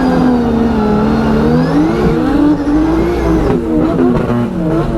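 A drift car accelerates in second gear during a drift battle at a track in Brazil. The loud engine revs close by, with the pitch rising and falling, and tires squeal faintly.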